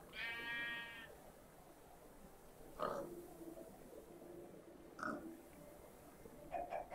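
In a video game, a sheep bleats in several short, quavering calls spread over a few seconds, faint and set against quiet background noise.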